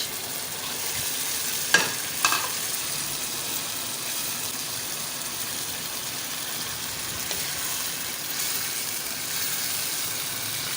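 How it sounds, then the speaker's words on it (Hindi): Fish sizzles steadily as it fries in a thick masala, with a couple of brief scraping clatters from stirring. "फ़िश को अच्छी तरह इसमें फ्राई होने देंगे"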